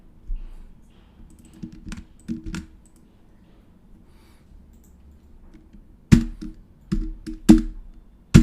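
Code is entered on a computer keyboard for a CodeIgniter 4 file-upload tutorial. Scattered soft key clicks come first, then a quiet pause, then firmer, louder clusters of keystrokes near the end, with no talking.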